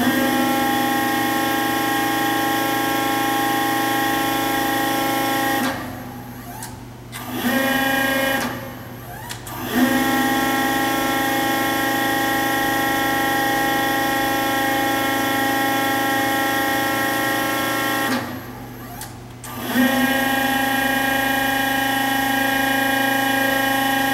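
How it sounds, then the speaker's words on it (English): A REXA electric actuator with a brushless motor drives a pressure control valve on an oil pipeline, producing a loud, steady mechanical whine and hum that cuts out briefly three times before resuming, close by with no voices. "and I will move the valve"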